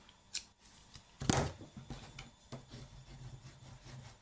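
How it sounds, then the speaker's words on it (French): A few sharp snips of scissors through kraft paper, close and fairly quiet, mixed with soft rustling and rubbing of the paper while making a scrapbook card. "Vous prenez votre ciseau, il n'y a rien de plus simple."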